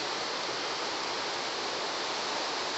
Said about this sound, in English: I don't know how well the waterfall's coming through.